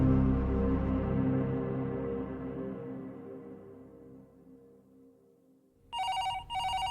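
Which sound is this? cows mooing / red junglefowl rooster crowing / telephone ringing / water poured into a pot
telephone ringing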